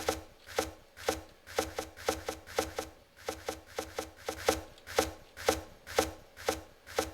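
Rapid rhythmic chopping-like harvesting sound effects from the video game Towns, repeating in quick even bursts of three or four strikes, close and clear with no voice over them.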